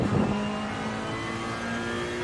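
Mercedes race car in Assetto Corsa Competizione at the Hungaroring pulls hard in second gear, a sustained engine drone holding a steady pitch after a brief louder burst at the start.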